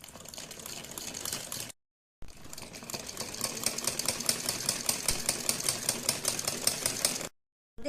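Sewing machine stitching fabric alongside a thread to make a thin dori, running in a fast, steady mechanical rattle close by, with brief pauses near the start and end.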